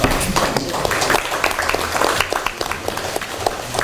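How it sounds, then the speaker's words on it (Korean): Audience at a Democratic Party press event giving the party leader and leadership a big round of applause, a sustained burst of many hands clapping with a few sharper nearby claps. "지난 2년 동안 국민과 함께한 추미애 당대표님과 지도부께 큰 박수 좀 부탁드리겠습니다."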